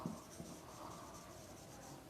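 A marker or chalk scratches steadily across a board during a chemistry lecture, a faint, continuous dry scraping with no talk.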